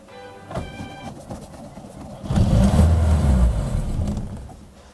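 A VAZ-21011 engine, idle for seven years and fitted with a battery, cranks briefly, then catches and roars loudly for a couple of seconds before easing off, heard up close.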